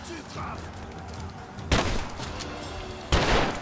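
Gunfire in Rise of the Tomb Raider, two loud sharp bursts of shots standing out over a busy game soundscape, with some voice present.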